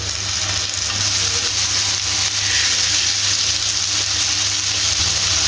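Afghani seekh kebabs fry on one side in hot oil, a steady, loud sizzle with crackling hiss that runs unbroken throughout.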